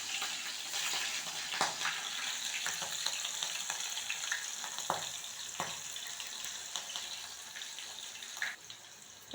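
Cumin and mustard seeds with green chillies frying in hot oil, a steady crackling sizzle with scattered pops and a few sharper spits throughout, close and moderately loud with no talking.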